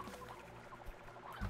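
Hens clucking in the video game Slime Rancher, a close run of soft, busy clucks that swells into a louder flurry at the end.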